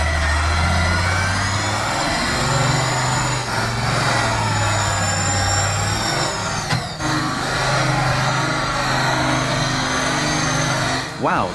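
An Ursus 1614 tractor hauls a massive load of logs, its engine a steady loud drone with droning low harmonics throughout, plus a brief knock near the middle and shifting machinery tones.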